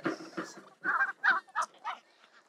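Chickens waiting for their breakfast give a few short clucks and honk-like calls in quick uneven bursts, close by with quiet gaps between them.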